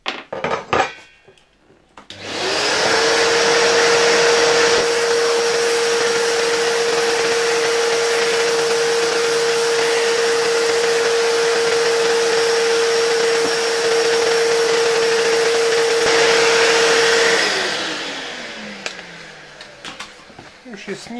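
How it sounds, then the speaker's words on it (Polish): A vacuum cleaner runs steadily for about fifteen seconds with a strong, even whine while cleaning the air outlet cover of a 1963 P01 fan heater made by Warszawskie Zakłady Maszyn Elektrycznych. It starts up and winds down at the edges. "tylko też ją wcześniej troszeczkę odkurzaczem wyczyszczę."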